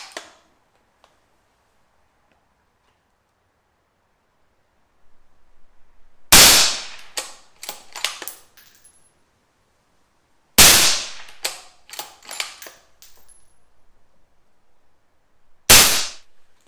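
Three sharp rifle shots through an A-TEC Integral reflex moderator, fired outdoors several seconds apart, each a crisp crack followed by a short rattling echo fading away.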